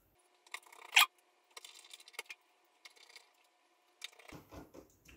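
Small screws are driven to secure the heatsink back onto an XFX RX580 graphics card, heard as quiet, close clicking and ratcheting bursts of a screwdriver turning, separated by short pauses, with no talking.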